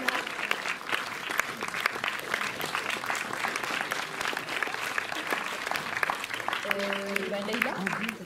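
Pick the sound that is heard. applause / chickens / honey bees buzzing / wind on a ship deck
applause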